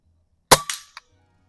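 A single sharp, loud shot from a Umarex Notos G2 air rifle at an outdoor range, followed by a quick secondary crack and a faint brief tick of the pellet striking the target, with near-silence before and after.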